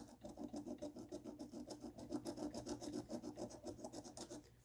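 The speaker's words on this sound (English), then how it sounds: "grab a flat screwdriver and just clean off some of this dirt and crap here" A flat screwdriver scrapes dirt off a suspension part on a 2006 Subaru Forester, a quiet, rapid rhythmic rasping of back-and-forth strokes with no talk.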